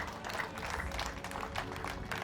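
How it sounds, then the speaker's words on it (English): Steady applause from a crowd at an outdoor International Albinism Awareness Day celebration in Mukono District, Uganda, dense and continuous at moderate volume, with a low murmur and rumble underneath. "Can't we clap louder than that?"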